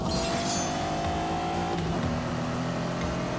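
A supercar accelerates hard in The Grand Tour racing video game, its engine roaring loudly and continuously with a rising tone throughout, with no voices over it.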